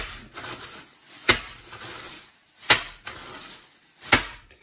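Frozen sloes, rock solid from the freezer, banged to split their skins: three sharp, loud impacts spaced about 1.4 seconds apart, with softer rattling and rustling between them.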